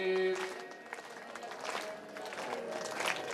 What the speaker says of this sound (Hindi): हाँ इसे ताली बजा कर लो